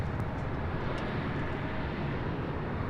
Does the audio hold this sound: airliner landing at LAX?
yes